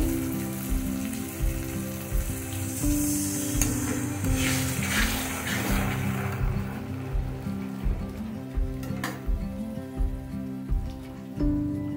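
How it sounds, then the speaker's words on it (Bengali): Water poured onto sizzling fried spice paste for a rohu fish and taro curry sets off a loud, dense crackling hiss that gradually settles into a softer bubbling sizzle, with occasional stirring clatter. "এবার জল দিয়ে দেব"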